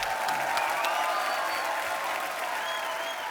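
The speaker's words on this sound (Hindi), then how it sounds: "आप सबकी जोरदार तालियों के बीच मिस्टर आशुतोष गोवारिकर।" A studio audience applauds steadily for a guest's arrival on a Hindi comedy talk show, a dense, even wash of clapping from the crowd for the whole stretch.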